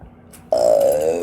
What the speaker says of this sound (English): Fucking claws got me burping.